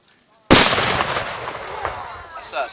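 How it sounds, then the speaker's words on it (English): A single loud six-pounder cannon blast booms out abruptly, followed by a long rumbling decay and faint background noise. "The guns on the American side, you might realize, are a little bit louder than the ones on the British side."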